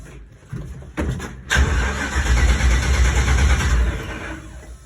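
An old Chevy truck engine cranks with a few short starter bursts, then catches and settles into a loud, rough running idle close by.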